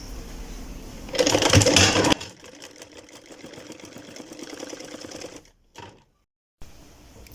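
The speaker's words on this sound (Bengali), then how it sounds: "দুইটা একসাথে করে এখন আমি সেলাই করব।" A sewing machine stitching two salwar fabric pieces together, running in a loud fast burst, then a steadier, quieter whir before stopping, a brief silence, and a restart.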